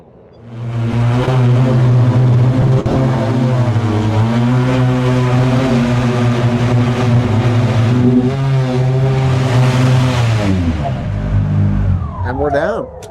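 An eVTOL aircraft coming in to land gives a loud, steady multi-tone electric rotor hum and whine that holds for about ten seconds, then dips and winds down as it settles.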